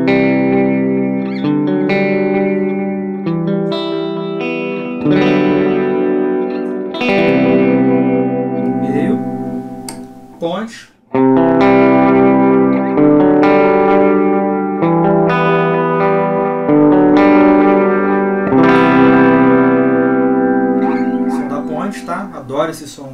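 Clean electric guitar with a chorus effect through a Mooer GE200 multi-effects unit, played as sustained chords and arpeggiated notes in a worship style, loud and steady with one brief pause midway and no talk.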